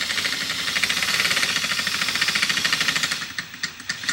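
A power drill bores a hole for mounting a car racing seat, giving a close, steady grinding rattle with rapid pulsing that tails off near the end, with no talk.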